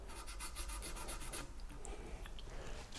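Fine 800-grit abrasive polishing guitar frets on an Ewor Stingray, a close, steady dry rubbing that runs continuously, with rhythmic back-and-forth strokes in the first half.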